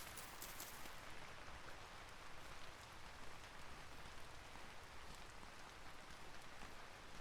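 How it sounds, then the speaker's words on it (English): Steady rain falls in a video game world where mushrooms sprout around a built house, a dense even hiss of drops hitting surfaces that continues unbroken for several seconds with no voices. "Eating mushrooms and listening to the sounds of the rain."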